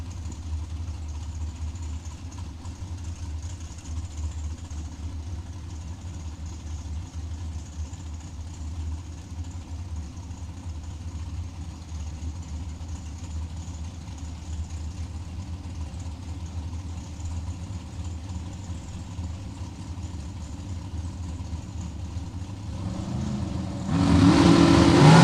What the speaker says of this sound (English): a little purge of the nitrous, and rolling it up